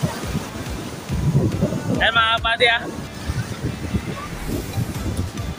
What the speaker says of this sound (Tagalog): Napakalakas ng alon dito sa dagat.